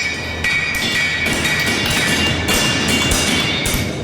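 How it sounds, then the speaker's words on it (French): A farrier's hammer strikes a horseshoe in a workshop, sharp metallic clinks and rings landing in a fairly regular rhythm with bright ringing overtones between blows. "On entend de loin les coups rythmés du marteau du maréchal ferrant lorsqu'il travaille dans son atelier"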